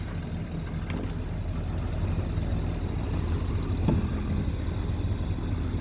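A low-cost replacement air compressor runs on a Land Rover Discovery suspension, giving a steady low mechanical hum and drone with a few faint clicks.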